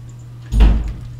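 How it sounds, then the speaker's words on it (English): A door closes in the game The Legend of Zelda: Ocarina of Time: a single dull, heavy thud partway through, fading into a short low rumble over a quiet background hum. "that door closing in the background"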